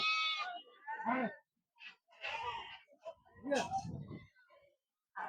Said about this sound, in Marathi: उस्मानाबादी शेळ्या आहेत